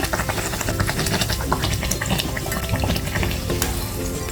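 Malvani chicken vada frying in oil over a medium flame, a busy bubbling sizzle with small crackles and splashes, close and continuous with no voices.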